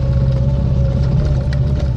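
A ZAZ-965 car engine drives in second gear uphill, producing a loud, steady, close mechanical rumble with a constant drone and no talking.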